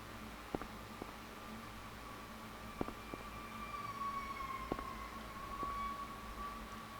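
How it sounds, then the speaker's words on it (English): An ambulance siren passing outside a room, faint and distant: a thin, steady wailing tone that drifts slowly in pitch under background hiss, with a few sharp little ticks scattered through it. "Looks like there was an ambulance outside."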